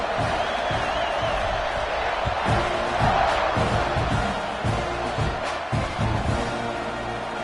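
A stadium crowd in College Football 26 roars during a kickoff, a dense continuous wash of cheering and shouting with rhythmic chant-like bursts, fairly loud and sustained throughout.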